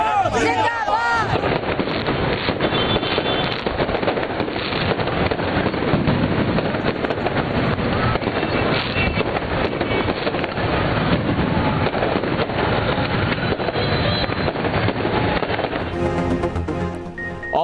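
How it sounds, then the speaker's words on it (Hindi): Fireworks display over Liberty Chowk in Lahore at a political celebration, a continuous loud crackle and rumble of bursts with crowd noise and wind, sustained throughout. "मुस्लिम लीग नून का लिबर्टी चौक लाहौर पर शानदार आतिशबाजी का मुजाहरा, आसमान रंगो नूर से नहा गया"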